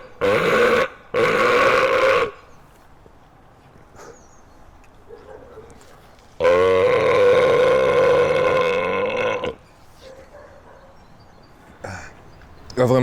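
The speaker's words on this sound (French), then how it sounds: "pour ça, il faut que je rote" Long, deliberate burps come in drawn-out, loud, guttural bursts, two main belches separated by quieter gaps with faint breathing and small throat sounds.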